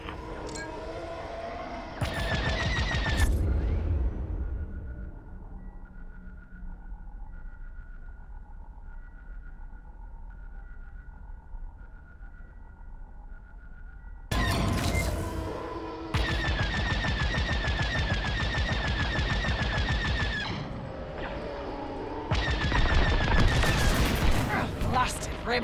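Station defense turrets open fire in Star Wars Squadrons, with dense bursts of rapid blaster shots in loud clusters at the start and again in the latter half. A quieter stretch of steady electronic tones and pings sits between the volleys.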